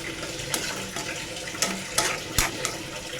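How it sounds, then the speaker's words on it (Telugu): Water is poured from a small box into chicken liver curry in a pan, giving a run of splashes and pours with a few sharper spills, close by, against a faint background sizzle. "వాటర్ అనేది నేను ఇంత ఒక చిన్న బాక్స్ తోటి ఒక బాక్స్లో తీసుకుంటున్నానండి"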